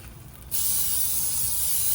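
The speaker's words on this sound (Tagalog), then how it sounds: "And spray natin siya ulit" Aerosol cooking oil spray hissing steadily onto skewered chicken barbecue in an air fryer basket, starting after a brief quiet moment and continuing as one close, loud, unbroken burst.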